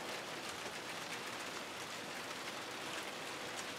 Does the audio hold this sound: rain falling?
yes